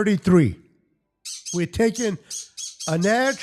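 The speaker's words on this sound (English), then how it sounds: "I apologize for my birds in the background." Pet birds kept in a cage squawk in sharp, bright bursts in the background, interleaved with someone talking close to the microphone.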